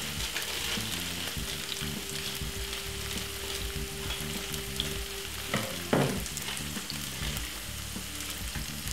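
Food frying in a pan gives a constant, even sizzle that carries on without a break, with a faint steady hum beneath it and one brief clatter near the end.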